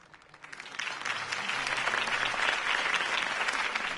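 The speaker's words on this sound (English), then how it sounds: "could have heard that applause" In the Batman Telltale game, a crowd breaks into applause after Harvey Dent's campaign speech, swelling from quiet to a steady, dense roar of clapping that holds to the end.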